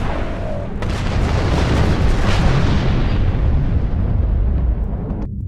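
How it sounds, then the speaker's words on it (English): Torpedo impacts on starships in the space combat game Star Trek Online produce a heavy, loud explosive boom with a long rumbling roar that slowly fades, no speech over it. "Hard about, fire torpedoes."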